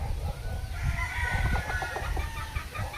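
A Boston Millionaire derby-size gamefowl rooster clucks and crows up close, loud and continuous over a low background rumble.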